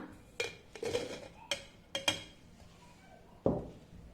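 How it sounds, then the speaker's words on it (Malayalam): Small chopped apple pieces dropped into a mixer jar, giving a few separate clinks and thuds against the jar at close range, with one heavier knock near the end. "ഈ ജാറിനകത്തേക്ക് ചെറിയ കഷ്ണങ്ങളാക്കി എടുത്ത് വെച്ചിരിക്കുന്ന ആപ്പിൾ ഇട്ട് കൊടുക്കാം"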